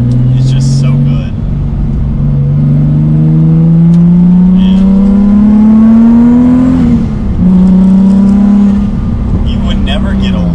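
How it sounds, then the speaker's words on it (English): A manual turbocharged Nissan 350Z engine revving up loudly through the gears, its pitch climbing steadily, heard from inside with people talking over it. "Like a manual turbo car is just where it's at."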